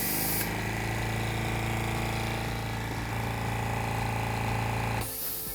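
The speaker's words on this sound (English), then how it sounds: "when you turn on the compressor," A Stealth cordless AC/DC compressor runs on a Makita battery in DC mode, a loud, steady motor drone with a strong low hum that holds evenly for about five seconds, then cuts off abruptly near the end.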